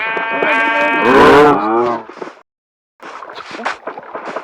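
A Minecraft sheep bleats loudly in a wavering cry, followed by a short silence and then some rustling, clattering sounds.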